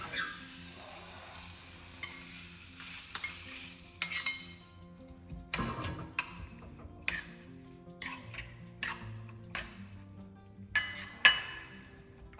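Savoury Indian oats breakfast being stirred in a pan, light sizzling broken by irregular metal clinks and scrapes of a spoon against the pan, close and quiet, no talk.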